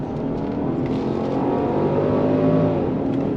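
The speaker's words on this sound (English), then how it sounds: "On throttle, here we go. On the brakes, look at this. Nice downshifts." A 2025 Genesis GV70 3.5T SUV accelerates hard, its engine note rising steadily and loudly close by, then easing as it drops gears, with no talk over it.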